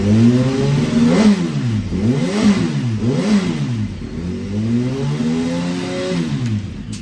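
A motorcycle engine revs repeatedly to circulate coolant through the water pump during season prep, with several rising and falling revs close up and loud, easing into a steadier idle.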